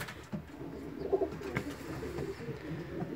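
Young pigeons, racing birds from a loft, coo softly with low murmuring calls over a quiet, noisy background, with no voices heard.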